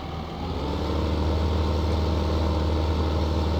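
A tractor engine in Farming Simulator 15 drones steadily at close range, a constant low rumble with an even, unbroken loudness throughout and no talking.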